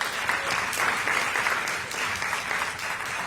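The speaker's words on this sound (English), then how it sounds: "So if you could give me a hand clap." An audience at a public hearing on reparations claps its hands in a dense, steady round of applause. The clapping holds at an even level for the whole stretch, with no voices over it.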